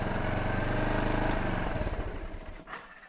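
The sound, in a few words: motorcycle engine running after starting, new carburetor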